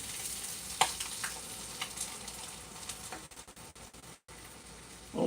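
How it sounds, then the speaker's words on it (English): Beaten eggs poured into a hot frying pan over onion and meat sizzle with a steady crackling hiss, with a few louder pops and stirring scrapes near the start and a brief drop-out near the end. "Pour the eggs in."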